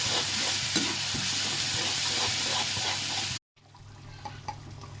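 Loud sizzling and frying of ginger, garlic, tomato and green chillies in a pan with stirring scrapes, cutting out abruptly, then a quieter sizzle resumes.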